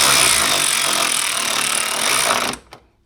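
A bolt being tightened with a hand tool during a Hyundai Tucson 4-cylinder petrol alternator replacement, giving a loud, continuous grinding ratchet-like rasp that cuts off abruptly, followed by one short knock.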